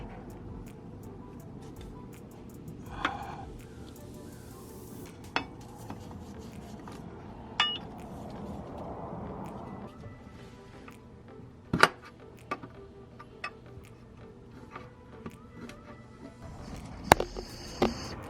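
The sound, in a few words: pry bar prying off a Mazda 3 transmission pan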